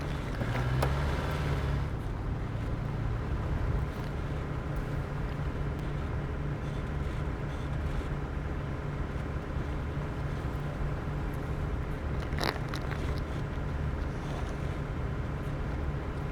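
A big diesel truck in SnowRunner idling and rumbling steadily, a low constant engine drone with a clattering edge that holds at even loudness throughout.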